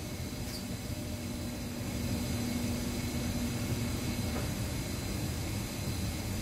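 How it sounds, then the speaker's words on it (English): A Whirlpool Cabrio top-load washer in test mode engages its transmission for the spin cycle. A steady low motor hum carries a faint sustained tone for about four seconds, then continues as an even drone with no talking. "I can hear the transmission engaging."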